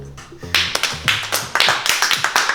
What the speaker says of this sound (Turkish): Sertan Tiryaki daha güçlü bir alkış bekliyorum